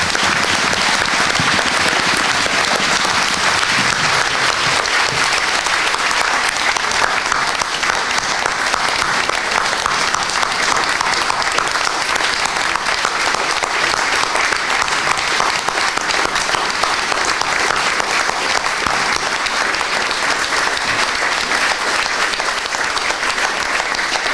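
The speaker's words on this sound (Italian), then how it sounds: "Facciamogli un applauso, sicuramente lo sentirà." Sustained applause from a large audience at a civic gathering in Venice, dense continuous clapping at full volume lasting over twenty seconds without any speech breaking through.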